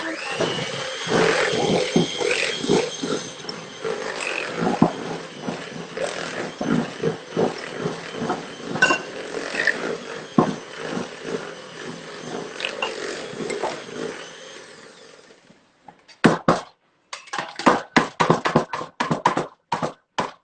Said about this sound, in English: I'm going to whisk this for the last time